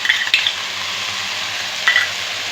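A ground paste of ginger and green chili fries with dried red chilies in a pan for Tirunelveli sodhi, making a continuous loud sizzle broken by brief stirring scrapes and clinks of a utensil.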